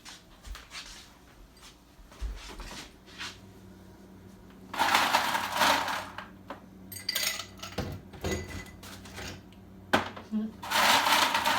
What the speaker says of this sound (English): And you fill them up